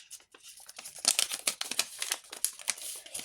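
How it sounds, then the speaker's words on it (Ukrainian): A paper surprise packet is torn open up close, giving a dense run of crisp crinkling, rustling and tearing bursts with no voices. "Відкриваємо наш пакетик."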